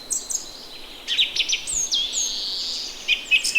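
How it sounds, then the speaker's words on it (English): Chirps and tweets from birds, sounding as a bird call effect: a run of quick bright chirps and warbles, fairly close and clear, repeating in short bursts with no talking over them. "Tweet, tweet."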